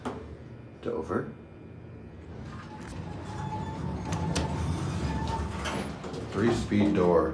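The three-speed door of a Dover elevator in Van Allen Hall at the University of Iowa slides with a low rumbling motor whir and clunks at the start and finish, while people talk nearby.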